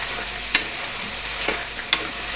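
Ginger garlic paste being stirred into a crab curry in a pan, a steady faint sizzle with a few soft scrapes and taps of a spoon, close and without talk.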